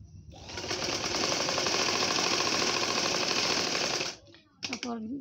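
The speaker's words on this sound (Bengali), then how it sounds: "এভাবে আমি পুরোটা গলা সেলাই করে নিব।" A sewing machine runs in one steady, fast, loud burst for about four seconds, stitching the neckline of a round baby frock, then stops with a brief voice afterward.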